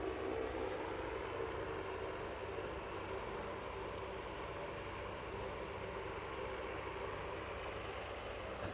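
A jet aircraft at Aberdeen airport sounds as a steady, distant broadband roar that holds evenly for the whole stretch, with no clear rise or fade.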